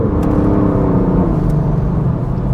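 A BMW M3 Competition G80 engine accelerates hard, a loud steady rising drone with rich harmonic rumble filling the whole stretch, no talk over it.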